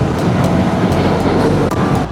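Bangalore road traffic heard from a moving Guerrilla 450 motorcycle: a loud, dense low rumble of engines and wind with faint periodic ticks, continuous and close throughout.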